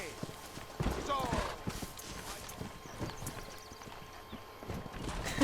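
Horse galloping in the Red Dead Redemption video game, rapid rhythmic hoofbeats with a brief whinny, playing steadily under people talking.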